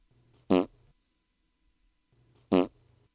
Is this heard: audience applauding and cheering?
no